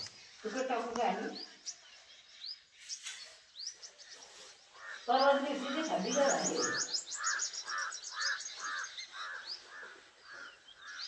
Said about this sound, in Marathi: तिकडं पक्ष्यांचा आवाज बघा शांतपणे ऐका फक्त